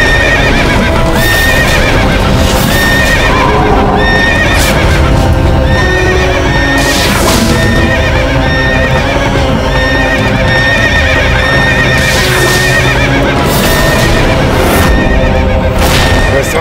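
A horse neighs and whinnies repeatedly over continuous clip-clopping hooves and a dense, loud outdoor din, close and busy throughout with no pause.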